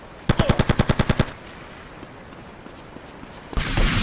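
A rapid burst of about ten evenly spaced gunshots from a weapon in GTA Vice City Stories, loud and close, then a quiet lull before a heavy rumbling blast swells in.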